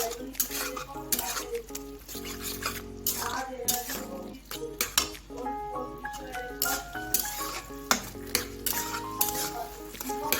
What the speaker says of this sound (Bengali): দেখো, চিংড়ি মাছ দিয়ে আজকে আমি কচুর শাক রান্না করছি।